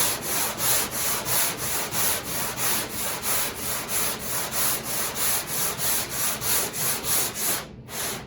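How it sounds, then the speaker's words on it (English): Rhythmic back-and-forth rasping of sandpaper on a wood panel, sanded by hand, about two strokes per second, steady and close, with no talking. "Let the sandpaper do the work."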